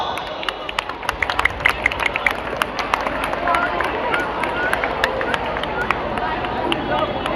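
Audience at a high school cultural function applauding, a dense steady wash of clapping from a crowd with some murmuring, sustained at moderate loudness throughout.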